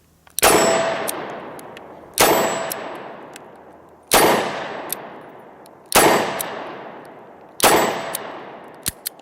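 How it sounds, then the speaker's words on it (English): Five loud, evenly spaced shots from a Smith & Wesson M&P340 revolver loaded with Hornady Critical Defense 110 grain rounds, each a sharp crack with a ringing decay, about two seconds apart, fired outdoors at close range. "we're going to be shooting the Hornady Critical Defense 110 grain out of this right now"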